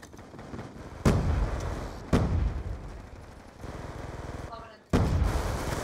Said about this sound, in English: They're putting little explosives everywhere. They're all using shotguns.